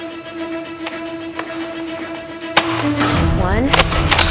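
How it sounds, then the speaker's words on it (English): A Nerf Modulus ICS-10 Battlescout blaster fires a foam dart: a sharp crack and thump partway through, followed by rattling mechanical clatter, with a faint tonal hum beforehand. "Let's shoot up to the roof."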